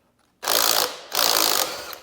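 A wrench ratchets in two quick bursts, loosening a corroded, rusted bolt on a Ford Focus RS engine, close and clear with no talking.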